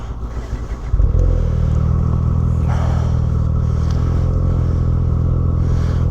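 A Ski-Doo 900 ACE Turbo four-stroke snowmobile in sport mode revs up hard and holds a loud, steady, droning engine roar close by after a quieter idle.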